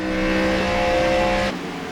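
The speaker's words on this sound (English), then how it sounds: "Tri-County Truss on board with that Trans Am Camaro" On-board roar of a Trans Am Camaro race car in a NeoTransAm series round at Road America: a loud, steady high-revving engine drone that suddenly drops off as the throttle lifts near the end, with no talk.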